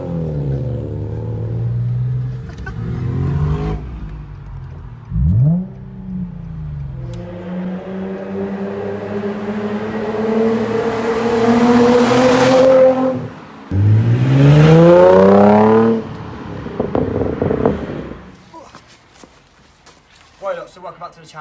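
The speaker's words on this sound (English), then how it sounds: "give us a rev for our YouTube video" A modified Nissan 350Z engine revs up in rising, swelling pulls, loud and close, with people talking over and between the revs.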